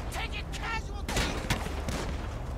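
A rapid exchange of gunfire involving police in GTA 5, with several sharp shots cracking in quick succession over a noisy background.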